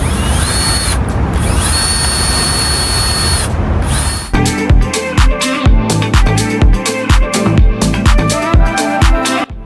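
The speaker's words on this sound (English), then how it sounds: "I'm gonna screw this in right here" A power drill drives screws into a classic Oldsmobile Cutlass rear deck package tray, with a steady whir for about four seconds and then a run of short, loud, rhythmic bursts close by.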